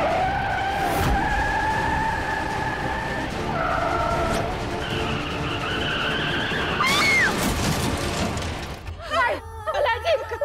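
Car braking hard with tires skidding and squealing, a loud sustained screech over engine noise that ends abruptly, followed by a few knocks, while someone talks over it.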